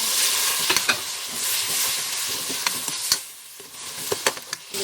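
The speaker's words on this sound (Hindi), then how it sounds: "अच्छी तरीके से मिक्स करेंगे।" Tomato paste gravy for a traditional Sobat dish is stirred and mixed in a hot pan, sizzling steadily with close scraping strokes and spoon clicks at irregular intervals.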